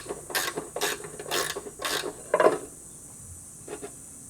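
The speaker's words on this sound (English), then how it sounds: "Now we're going to go ahead and remove these 2 10mm bolts." Ratchet wrench backing out two 10mm bolts on a Miata trunk, four quick evenly spaced clicking bursts up close, then a louder rattle of loosening hardware, a lull, and two faint final clicks.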